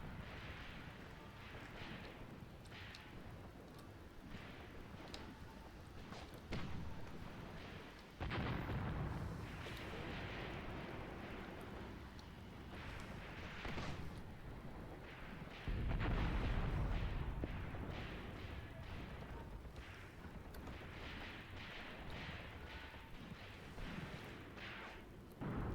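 Artillery fire from enemy firing points in the Graviteam Tactics war game, set in the Second Battle of Kharkov, booms and rumbles in repeated heavy blasts over a dense, continuous battle din, some shots close and loud, others distant.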